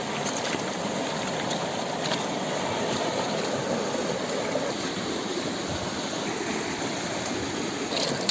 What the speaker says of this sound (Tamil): தண்ணியில் அலசி எடுக்கணும் ரெண்டு மூணு தண்ணி நல்லா கழுவணும்